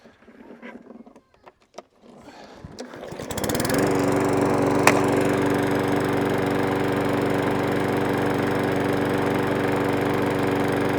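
A small engine fitted with an old air filter starts after some clattering handling noise, then runs at a steady, slightly laboured drone, close and loud, with no talking.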